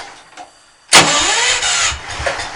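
A car engine turns over on its starter and struggles to catch, starting with a sudden loud burst of grinding cranking that keeps going unevenly for nearly two seconds after a quiet pause.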